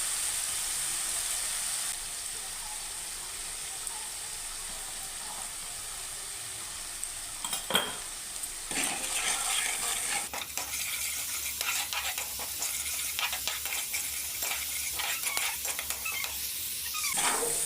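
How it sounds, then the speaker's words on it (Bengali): Ground spice paste being stirred and fried in a pan, a soft steady sizzle joined midway by repeated spatula scrapes and clinks against the pan. "দিয়ে এবার নেড়ে চেড়ে নেব, একটু নেড়ে চেড়ে নিয়ে স্বাদ মতো লবণ, হলুদ দিয়ে ভালো করে কষিয়ে নেব"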